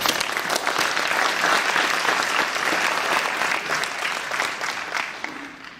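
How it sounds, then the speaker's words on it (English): A civic center ceremony crowd in Uvalde, Texas applauds itself, a sustained, full round of clapping that gradually thins and tapers off near the end. "Please give yourselves a round of applause"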